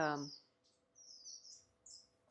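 Finches in an aviary housing about twenty birds give a few faint, high chirps spread across a couple of seconds, with a brief voice at the very start.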